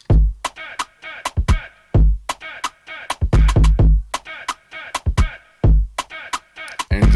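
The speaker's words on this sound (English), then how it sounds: "you get this distorted, like kind of TikTok drum loops" A distorted, punchy bounce drum loop in a TikTok style, processed through Arturia Mix Drums, plays alone with loud booming kicks and sharp snappy hits in a syncopated, repeating groove.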